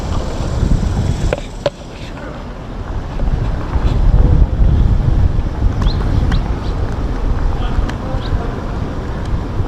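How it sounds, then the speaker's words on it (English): Gusty wind buffets the microphone outdoors on a campus, a low rumbling roar that swells and eases, with faint distant sounds behind it. "It's a little windy though today"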